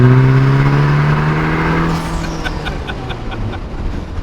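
A Vanderhall turbo car accelerates hard, its engine note climbing loudly and close up, with whooshing wind and road roar.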